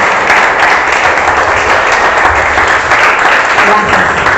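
A church congregation at a live Sunday service claps in a dense, steady, loud burst that holds evenly throughout.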